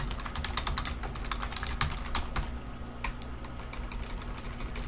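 Rapid, continuous typing on a computer keyboard, dense irregular key clicks close by over a low steady hum, with no talk.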